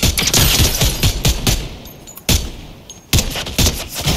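Rapid bursts of gunfire in Fortnite played in VR, loud and close, with several sharp volleys separated by brief pauses and a couple of heavier single shots.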